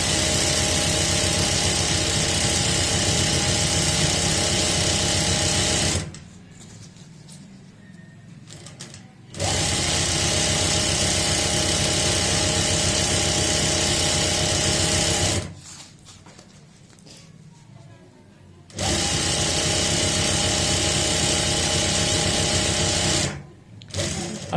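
Close, loud sewing machine stitching a saree seam, running in three long steady bursts separated by quiet pauses.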